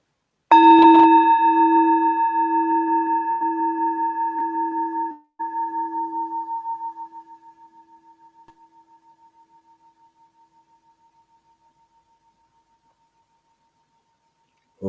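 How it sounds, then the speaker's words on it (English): A meditation bell struck once, its clear tone with strong overtones ringing out alone and slowly decaying over several seconds into near silence. "Allow this awareness to follow the sound of this bell as best as you can."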